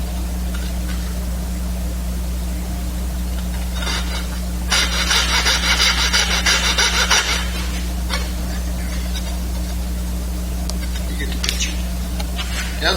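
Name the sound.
hand saw cutting wood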